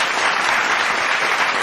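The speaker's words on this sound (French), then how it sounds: "Je vous demande d'abord d'applaudir, évidemment, nos invités qui ont fait l'effort de se déplacer," An audience at a French political conference applauds the invited guests, steady dense clapping filling the hall without a break, close and fairly loud with no speech.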